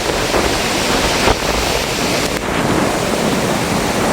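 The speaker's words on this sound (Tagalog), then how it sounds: "Dahil sa dagat yun. Dagat. Sobrang lakas ng hangin." Sea waves roar under strong wind in a dense, constant wash of noise, loud and close, with wind buffeting the microphone and no voices.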